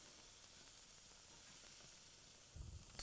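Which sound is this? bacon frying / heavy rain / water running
bacon frying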